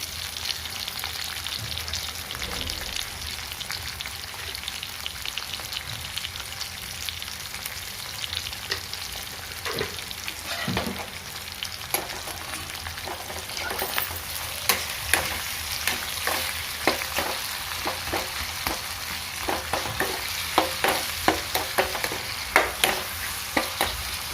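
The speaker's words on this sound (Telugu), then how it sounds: "ఒక్క సెకండ్ మనం ఉల్లిగడ్డ జర్ర వేగడానికి మూసిపెడదాము" Onions fry in a pan for a bitter gourd curry, giving a steady sizzle up close, with stirring scrapes and clinks growing busier and more frequent toward the end.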